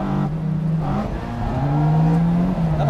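A drift car engine held at full throttle in a drift battle, roaring loud and close with a sustained high-rev tone that wavers in pitch.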